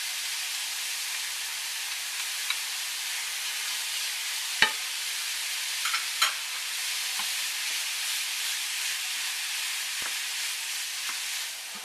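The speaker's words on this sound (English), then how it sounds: "So now what I'm going to do is add my onions and garlic, and I'm going to continue on with the browning process." Sausage, onions and garlic brown in a hot pan with a steady, even sizzle, broken by a few sharp clicks and scrapes of stirring.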